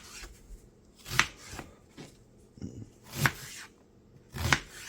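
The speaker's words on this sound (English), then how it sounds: "we are going to chop it in pretty good sized chunks" Knife chopping an onion into large chunks on a cutting board, three sharp loud cuts spaced about two seconds apart with softer knocks and rustles between them, no talk.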